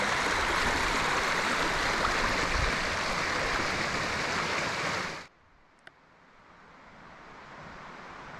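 A stream at a trail water crossing: steady, loud rushing water for about five seconds, then an abrupt cut to near quiet with one faint tick.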